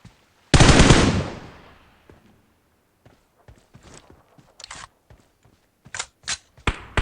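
A loud burst of gunfire from PUBG Mobile opens with a sharp, dense salvo that decays over half a second, followed by scattered softer shots and clicks, then a few sharper single cracks near the end.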